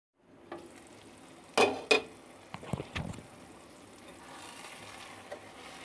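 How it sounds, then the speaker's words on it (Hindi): Suji halwa cooking in a pan over medium-low heat gives a soft, steady sizzle, with a few sharp stirring scrapes and clinks near the start and then quieter frying. "मीडियम टू लो आंच पर इसको 2 मिनट पकाएंगे"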